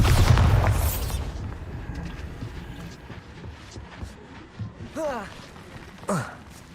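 Explosive spell blasts in the Hogwarts Legacy video game: a loud, broad booming burst opens and fades over about a second, followed by a low rumbling game background with brief voiced sounds later.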